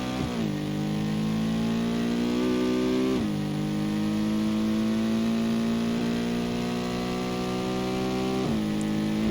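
A car in the video game BeamNG.drive revs loudly toward a jump, its engine climbing steadily in pitch through the gears, with brief dips at the shifts and no talk.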